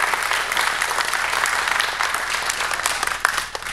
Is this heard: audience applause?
yes